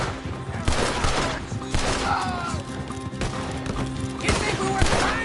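Gunfire during a Wild West video game shootout on the streets of Rhodes, scattered shots and impacts cracking out across five seconds amid busy mixed game noise, with shouted character voices in the background.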